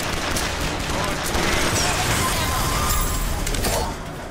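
Dense, continuous gunfire and explosive bursts from the first-person shooter Bioshock Infinite fill the scene loudly and steadily, with possible background voices mixed in, easing slightly at the very end.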